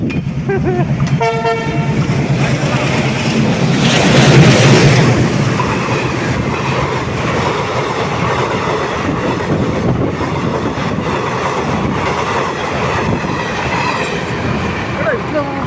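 A train passes along a railway track, loud and close, with a horn toot early on, a swelling rush of wheels and carriages peaking midway, then steady clattering rumble as the cars roll by.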